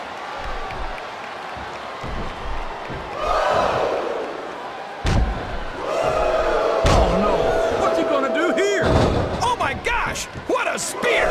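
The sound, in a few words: spear tackle slam in WWE SmackDown vs Raw 2007 video game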